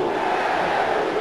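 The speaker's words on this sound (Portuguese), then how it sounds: "Torcida do Cruzeiro." Cruzeiro supporters in a stadium during a 2012 Brasileirão match against Fluminense roar and chant as a dense, continuous crowd wash, steady and moderately loud.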